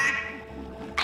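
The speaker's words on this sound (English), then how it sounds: "tired of the bird calls already." A short game sound from Sly Cooper 3, a squawking bird call at the start and again at the very end, with a low ambient game hum between them.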